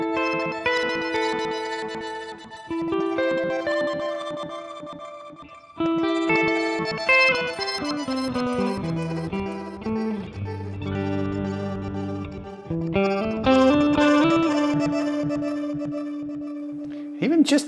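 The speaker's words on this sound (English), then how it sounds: "Add some reverb in with that." Electric guitar through a Line 6 Helix, notes and chords ringing out with a spacious reverb tail, phrases blending into one another without any talking.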